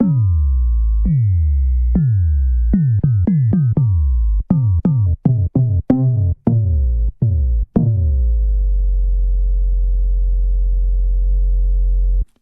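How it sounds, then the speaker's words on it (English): A steady, pure whistling tone from a self-oscillating filter on the ES1 synthesizer, plucked notes stepping through pitches, then a sustained hum with no voices. "You start to hear now the filter which is self-oscillating"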